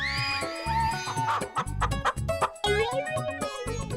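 A rooster clucks and squawks in quick, loud, close bursts, a busy run of sharp calls lasting a few seconds in a Hindi comedy TV scene, with no talking over it.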